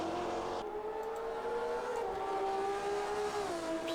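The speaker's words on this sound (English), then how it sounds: "Beautiful sounding car. I was just listening to it as it went through." A classic BMW race car in the GT Legends racing game roars past with a sustained engine note that dips and rises in pitch as it moves through, steady and moderately loud with no one speaking.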